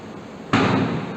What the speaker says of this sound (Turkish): Kısa süre içerisinde trafo içerisinde patlamalar meydana geldi.